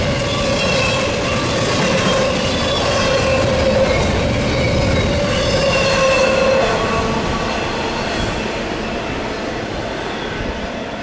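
A train rumbles steadily along the tracks nearby, with a sustained metallic wheel squeal riding over the continuous roar.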